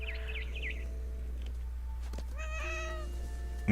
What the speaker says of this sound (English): And I meowed.